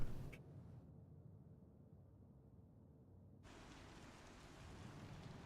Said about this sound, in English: here we are looking at the rain.